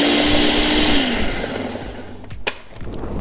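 Blender pulsing chopped vegetables for a green hot sauce: a loud whirring motor spins for about a second, winds down, then short bursts and clatter follow, close up.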